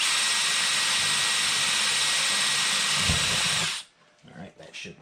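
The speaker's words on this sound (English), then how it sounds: "I'm going to drill a couple more holes here so we can get a hole started for our grinding tool to go into here." A power drill boring holes into a large 72-inch model of the Starship Enterprise NCC-1701, a loud continuous high whine that cuts off abruptly near the end, leaving brief quiet handling noises.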